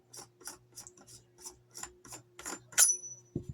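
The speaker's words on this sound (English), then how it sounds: "take off your extendable choke tube here on the end of your muzzle" An extendable choke tube is unscrewed from the muzzle of a Hatsan Escort SD12 shotgun, making about ten close, rhythmic rasping metal-on-metal turns, a faint squeak and a final soft clunk.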